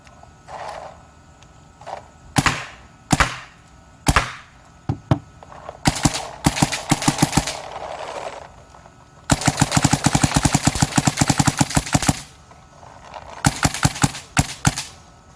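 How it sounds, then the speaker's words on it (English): A Dye DSR paintball marker firing: single pops and short bursts at first, then long rapid-fire strings of sharp, close, loud shots with brief pauses between volleys. "So we'll finish it off with the DSR shooting."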